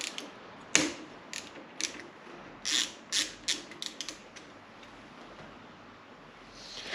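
Small metallic ratcheting clicks and creaks from a 5mm Allen key loosening the clutch master cylinder pinch bolts on a Ducati Monster S4, heard as several short bursts close up in a quiet workshop.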